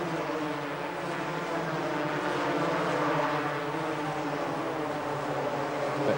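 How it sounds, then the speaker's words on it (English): Single-cylinder 250cc two-stroke racing karts scream down a circuit's main straight at high speed, a dense, continuous buzzing engine roar that holds steady and loud throughout, heard from trackside with no voices. "The karts will be coming up towards about 135 miles an hour as they come down this main straight"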